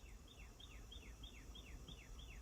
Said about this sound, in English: the cardinals are singing.